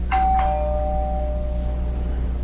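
A phone notification chime sounds a two-note ding-dong, bright and fairly loud, then fades into a lingering ring over a low steady room hum with no talking.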